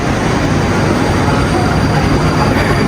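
A loud, steady rumble of a Moscow metro train running close by, with constant rolling noise and no pauses.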